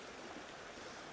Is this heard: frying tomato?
no